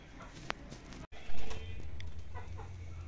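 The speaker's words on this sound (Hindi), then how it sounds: "पता नहीं कितने कबूतर उड़ गए हैं" Pigeons, soft cooing and brief wing flutters at close range, with a fluttering burst midway and quiet background noise.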